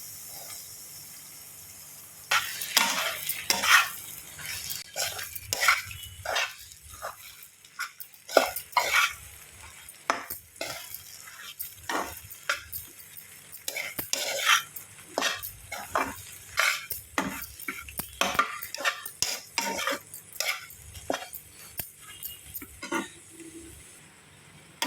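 Puffed rice being stirred into oil with onions in a pan, giving repeated close scraping and rustling strokes at an uneven rhythm over a quiet background.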